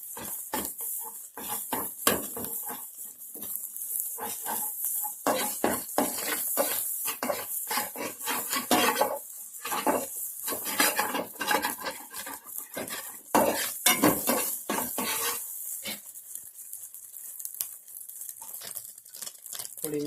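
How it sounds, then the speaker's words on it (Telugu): Ginger garlic paste being stirred into a pan for egg fried rice, with steady scraping and clinking of a utensil against metal throughout, close and fairly loud, no talking. "ఇప్పుడు ఇందులో అల్లం వెల్లుల్లి పేస్ట్ ఈ విధంగా వేసుకుని మనం కలుపుకోవాలి."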